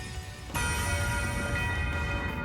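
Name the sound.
Nocturne Bell ringing, video game Trails of Cold Steel 4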